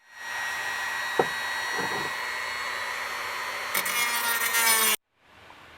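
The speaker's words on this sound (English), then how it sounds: "So I have a Dremel tool with a cutting wheel." A Dremel rotary tool with a cutting wheel whines steadily and loudly while cutting into a drum hoop, grinding harder near the end before abruptly stopping.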